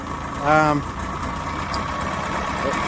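The engine of a 24-foot pontoon houseboat idles with a steady, close, even drone, preceded by a brief spoken voice near the start.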